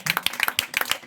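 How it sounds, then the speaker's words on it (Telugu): Congregation members at a rural Christian worship gathering clap hands in quick rhythmic bursts, several sharp claps in about a second. "చప్పట్లు కొడుతూ ప్రభుని"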